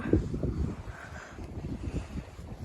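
Wind buffets the microphone outdoors at a hillside green almond orchard where pickers use a tall ladder stand, producing low, gusty rumbling bursts that rise and fall irregularly, fairly quiet overall.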